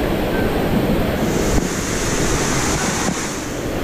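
Sea waves surge and wash steadily along Balagbag beach, a dense continuous roar of surf and current with wind buffeting the microphone throughout.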